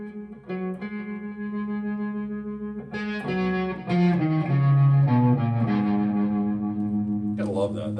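An electric guitar plays a scale through effects, with single sustained notes stepping up and down, colored by distortion, chorus and echo, fairly loud and close with no one talking.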